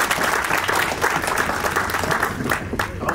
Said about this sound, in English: a round of applause for Craig Harrell and Hassan.